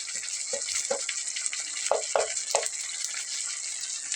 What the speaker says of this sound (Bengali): দেখুন, বেগুনটা ঠিক এভাবে ভাজা হচ্ছে।